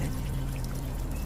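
Water is poured in a movie scene, a steady splashing trickle heard close and fairly loud for about a second, with no speech over it.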